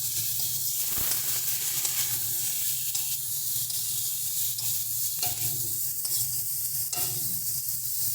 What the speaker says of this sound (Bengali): এবার এর মধ্যে সিদ্ধ করে রাখা গাটিটা দিয়ে দেবো।